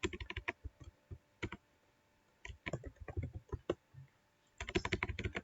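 Rapid typing on a computer keyboard in bursts of clicky keystrokes with short pauses between, close and clear with no talking.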